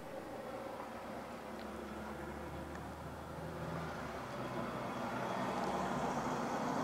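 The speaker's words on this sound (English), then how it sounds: "I apologize about the traffic" Steady street traffic rolls through a small downtown, a low continuous rumble of passing cars and trucks that grows slightly louder toward the end, with no voices.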